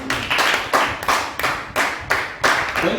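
A church congregation claps together in praise of Jesus during a sermon, sharp, evenly timed group claps landing about three per second, close and fairly loud, with no talking.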